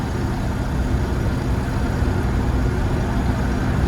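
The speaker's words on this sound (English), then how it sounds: "selecting your own gears in a beat-up old Land Rover with no exhaust" A beat-up old manual Land Rover Discovery 1 engine running with no exhaust, a loud, steady, rough low rumble throughout while driving.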